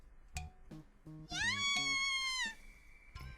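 A cat meows repeatedly in the video game Gaokao, several short mews followed by one long, drawn-out plaintive meow, clear and close over a quiet background.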